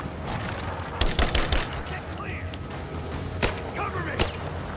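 Pistol gunshots in Rise of the Tomb Raider, several sharp cracks in quick bursts with a gap between, then a lone shot and another, amid game ambience and light talk.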